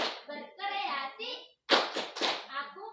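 Group chanting of a children's clapping routine at a PAUD teachers' workshop in Flores, ending in a quick run of three or four sharp close claps after a sustained sung line.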